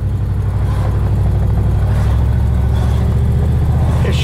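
A 1955 Ford three-row station wagon's engine runs steadily on a test drive, a loud, continuous low rumble and whir from inside the car with no talking.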